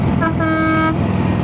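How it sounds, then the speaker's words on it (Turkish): A single short, loud Harley-Davidson motorcycle horn honk sounds close by over the steady rumble of the engine. "Bak bu korna."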